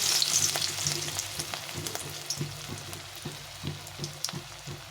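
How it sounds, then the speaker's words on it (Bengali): Lentil fritters (bora) frying in hot oil in a pan, a steady close crackling sizzle with a hiss, broken by soft regular pops and occasional utensil taps, with no talking. "এখন আমি এই বড়াগুলো ভেজে নেব এভাবে একটু বড় বড় করে বড়াগুলো ভেজে"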